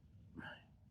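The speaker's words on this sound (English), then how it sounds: "Tobacco hiccups. There they are." A single short, faint hiccup from a man after taking loose Swedish tobacco snus, a quick throaty catch heard alone in a quiet room.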